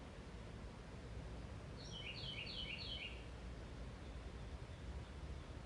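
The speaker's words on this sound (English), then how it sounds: "Do you hear my birds?" A short burst of high, rapid bird chirps about two seconds in, set against a steady hiss of broadband background noise.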